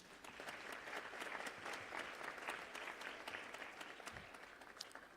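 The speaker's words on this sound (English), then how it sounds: "Can we please give that a round of applause?" Audience at a youth leadership summit applauds in a continuous, fairly faint wash of clapping, with a few sharper individual claps standing out.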